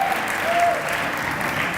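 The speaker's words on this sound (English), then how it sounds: "Let's give them a round of applause." Enthusiastic crowd applause fills a school sports banquet and awards night, a brief dense wash of clapping with faint voices and a whistle mixed in.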